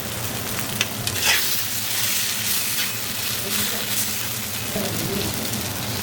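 Eggplant pieces fry in poppy seed spice paste with salt, giving a steady, close sizzle throughout, broken by scraping stirs in the pan.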